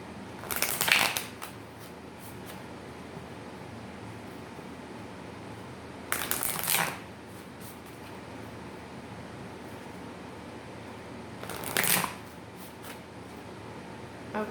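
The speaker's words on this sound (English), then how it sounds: "Next we are going to pull cards, messages from the Moonology deck." A Moonology oracle card deck is shuffled in three separate crisp riffling bursts spaced several seconds apart, against quiet room tone in between.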